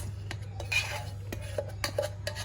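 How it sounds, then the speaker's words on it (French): Eggs being whisked vigorously with thick sweetened condensed milk in a bowl, giving a run of quick clinking, scraping utensil strokes against the dish, close and fairly quiet over a steady low hum. "Et je vais battre tout ça, mais vraiment vigoureusement pour que ça me fasse déjà un premier mélange tout à fait lisse"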